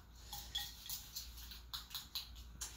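Spoon stirring a chocolate smoothie in a bowl, a series of quiet, irregular clinks and scrapes against the bowl over a low background hum.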